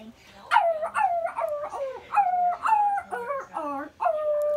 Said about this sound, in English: Is he a singing dog?